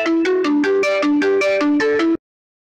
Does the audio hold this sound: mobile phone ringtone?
yes